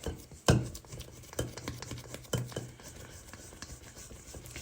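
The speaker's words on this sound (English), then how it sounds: "scrape it down, get what you can out of the bowl" Sticky dinner roll dough is scraped out of a mixing bowl with a spatula, giving close, uneven scrapes, wet slaps and a few heavier thuds against the bowl, with intermittent pauses.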